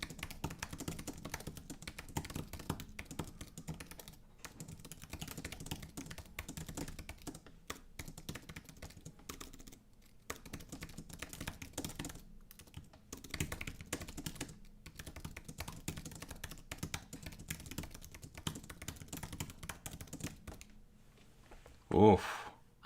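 Rapid computer keyboard typing during a timed typing race, a dense stream of clicks running steadily for over twenty seconds with people chatting over it at times.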